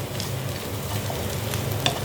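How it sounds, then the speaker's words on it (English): Chopped tomatoes hit light-brown onions frying in a pan for restaurant-style pav bhaji, giving a steady close sizzle with light stirring scrapes and no talk. "The onions have nicely cooked, turned light brown, and now it's time to add the tomatoes."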